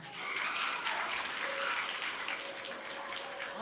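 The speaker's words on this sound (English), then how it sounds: "Let's give these people a huge round of applause." Crowd applause at a school assembly, a continuous wash of many hands clapping that swells early and holds steady, heard alone without speech.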